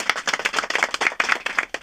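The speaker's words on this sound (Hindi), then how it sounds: "तालियों की गड़गड़ाहट के साथ सर और बच्चों ने मेरा वेलकम किया" Teacher and students clap in a classroom to welcome a visiting speaker, a lively burst of close, uneven hand claps from a small group that runs briefly without any voices.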